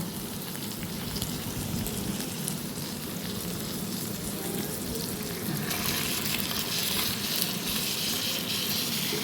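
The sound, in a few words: barramundi fillet in banana leaf roasting in a pan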